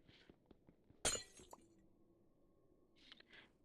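A portal breaking in a video game gives one sharp, close glass shatter that decays quickly into faint tinkling, set in an otherwise quiet scene with light clicks.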